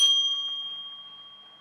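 A single bell from a toy waving cat train set rings once, a bright metallic ding that rings on and slowly fades out.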